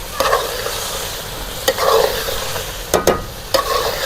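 Chicken and tomato being stirred in a hot pan: a steady sizzle with several scraping spoon strokes at irregular intervals, close and fairly loud, no talking.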